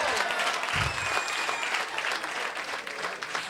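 Audience applause fills a comedy show in Rwanda, dense and steady throughout with a brief low thump near the start, no voices standing out.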